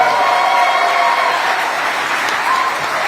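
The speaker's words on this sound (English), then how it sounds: "A wonderful round of applause for His Excellency." An audience at the grand opening of the JW Marriott hotel in Nairobi gives a loud, sustained round of applause, a thick, even roar of clapping from a sizable crowd throughout.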